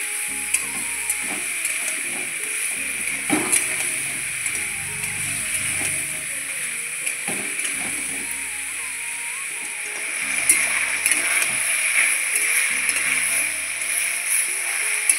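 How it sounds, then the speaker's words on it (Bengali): Potatoes and spring onions sizzle steadily in a pan, a constant bright hiss with scraping and clinking as they are stirred throughout, close and fairly loud. "এখন আমি দিয়ে দিচ্ছি পেঁয়াজকলি দিয়ে আবারও ভালোভাবে নেড়ে চেড়ে নিচ্ছি"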